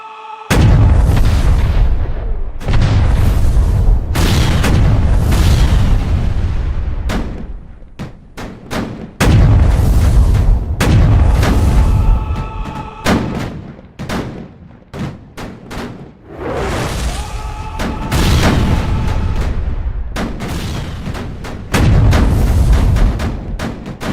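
Spanish cannons of a colonial-era coastal fortress open fire on advancing British forces in a sustained barrage of loud, overlapping booms and blasts lasting throughout, with no pauses.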